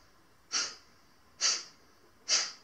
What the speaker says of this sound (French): nous allons travailler quelques respirations avec Kapalabhati. Hein, c'est des petit soufflet